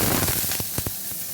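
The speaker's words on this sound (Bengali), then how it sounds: "রসুনটা দিয়ে দিলাম" Garlic sizzles in a spoonful of oil in a wok: a short burst of bright hissing crackle with a few sharp pops, close and fairly loud, with no voices.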